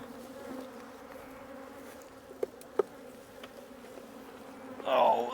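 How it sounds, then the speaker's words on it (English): Steady hum of honey bees swarming around an open hive during fall beekeeping, a continuous close buzz with a couple of faint clicks and a brief louder swell at the end. "A lot of bees, a lot of activity there."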